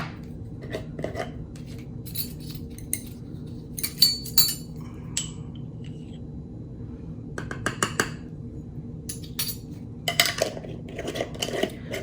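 Brown and red oxide pigments being ground for homemade foundation give off intermittent scraping, rubbing and light clinking strokes in irregular bursts, close and fairly quiet, with no talking.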